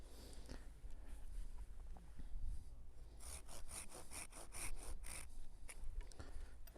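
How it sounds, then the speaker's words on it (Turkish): A hand saw cuts through walnut scion wood in a quick run of rhythmic back-and-forth strokes, each stroke a bright rasping burst, following a quieter stretch of handling noise. "Şimdi testeremizde kalemlerimizi hazırlıyoruz."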